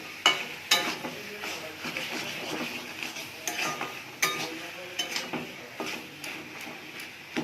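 Ghee sizzling and frying in a pan of cooked kochu shak (taro leaves) seasoned with garam masala, a steady hiss with scattered clinks and scrapes of a spoon stirring against the pan, no talking.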